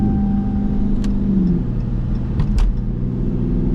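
Dodge Scat Pack or Hellcat in track mode, a loud close engine rumble that holds a steady deep tone and then climbs in pitch as it accelerates, with brief clicks and thumps over it.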